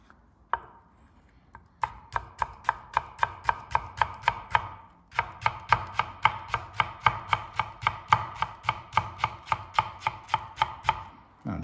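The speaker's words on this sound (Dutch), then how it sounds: "Maar je kan ook een hele mooie julienne snijden zo." A sharp santoku knife slicing fine julienne strips on a cutting board, producing rapid, evenly spaced crisp chopping taps in two long runs with a short pause between, close and loud, with no talking.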